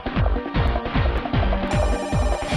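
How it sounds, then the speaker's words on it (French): A mobile phone ringing inside a moving car, a repeating rhythmic ringtone pattern of about eight regular pulses over steady cabin noise, fairly loud and close. "Le portable du passager avant sonne."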